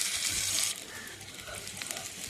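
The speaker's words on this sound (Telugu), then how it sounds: "అదే ఆయిల్లో కొంచెం తాళం గింజలు వేసి ఉల్లిపాయలు వేసుకొని తర్వాత కరివేపాకు వేసుకొని కొంచెం సాల్ట్ వేసుకొని ఫ్రై చేసుకున్నాను" Onions, curry leaves and seeds fry in hot oil with a soft, steady sizzle, a brighter hiss at the start settling into quieter crackling.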